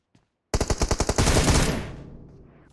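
Burst of automatic gunfire in the mobile battle-royale game PUBG Mobile: a rapid string of about ten loud, close shots followed by a ringing echo that fades out, with no talk over it.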